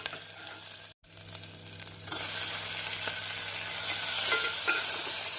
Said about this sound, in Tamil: தக்காளி பழம் சேர்த்து ஒரு நிமிடம் நாம் நன்றாக வதக்க வேண்டும்